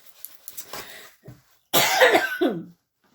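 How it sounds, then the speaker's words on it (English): A few faint, scattered coughs, then one loud, close burst of heavy coughing that trails off into silence. "I finished my coughing fit"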